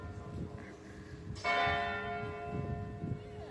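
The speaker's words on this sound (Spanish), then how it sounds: "ahí están sonando las campanas" A church bell strikes once in the old walled town of Mdina, its ringing tone sustaining and slowly fading over a quiet, murmuring outdoor background.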